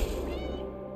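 A cat meows in the video game Stray, a single close, loud cry with a bright harmonic stack that fades over about a second, alone with no talking.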